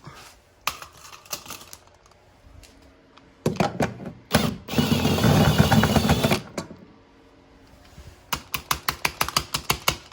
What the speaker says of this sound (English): there are 3 10mm bolts that you'll need to remove. So we'll go ahead and start taking those out